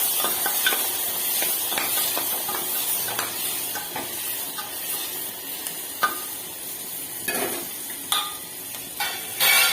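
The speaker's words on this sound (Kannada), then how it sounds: "ಟೊಮೆಟೊ ಹಾಕಿ ಫ್ರೈ ಮಾಡಬೇಕು" Tomatoes sizzle steadily in a hot pan while a utensil stirs and scrapes, with intermittent clinks and taps against the metal.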